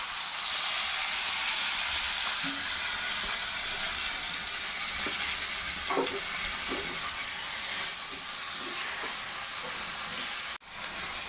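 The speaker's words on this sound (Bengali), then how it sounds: "জিরেটা হালকা ভাজা হয়ে গেলে তার মধ্যে কেটে রাখা টমেটোগুলো দিয়ে দেবো" Loud steady hiss of tomatoes frying in hot oil with cumin, with a few faint stirring taps and a sharp knock near the end.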